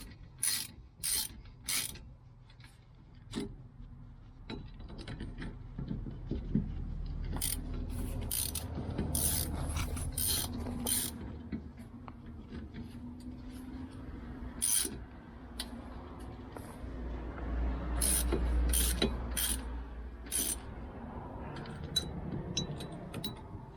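Bolts being screwed into the rear brake shield of a 2006 Lexus RX400h: scattered bursts of sharp ratchet clicking, some in quick runs, over a low steady background hum, fairly close, with no voices.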